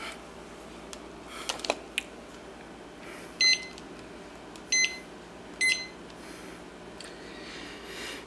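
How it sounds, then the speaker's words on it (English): Kitchen timer beeping in short bursts as it is set for a triple chocolate cheesecake baking in the oven, three distinct beep clusters against a quiet kitchen backdrop after a few faint clicks. "Alright, we'll set our little timer here."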